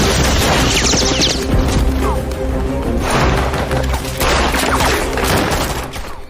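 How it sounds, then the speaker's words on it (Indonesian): Rapid bursts of gunfire in an Indian action film crackle over a loud, dense soundtrack of music and impacts, with intense barrages rising and falling. "Lalu tembak menembak pun terjadi hingga anak buah Raj bertumbangan karena tembakan itu."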